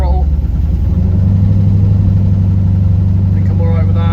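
A carbureted LS-swapped second-generation Pontiac Firebird engine held at part throttle gives a loud, steady low rumble with a constant drone throughout.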